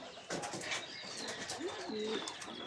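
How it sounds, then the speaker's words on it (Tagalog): A young pigeon gives a few soft, quiet coos and short calls, close by against low background noise. "yung young bird ko"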